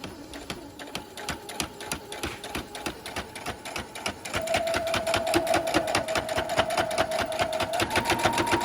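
Sewing machine sewing a curved seam on a fabric bowl cozy, a rapid rhythmic stitching chatter that speeds up and grows louder partway through, close and continuous with no talking.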